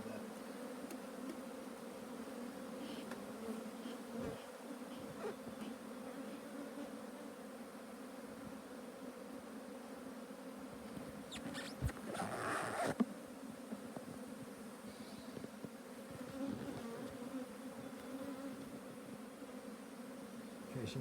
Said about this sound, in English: Let's drive these bees down a little bit.